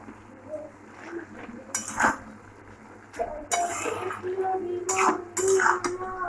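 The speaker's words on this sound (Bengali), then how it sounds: "ঢাকনাটা খুলে নেব, একটু নাড়া দিয়ে দেবো।" A lid lifted off a pot of cooking rice on low gas and the rice stirred: scattered metallic clinks and scrapes at irregular moments, close by, with a girl singing softly in the background.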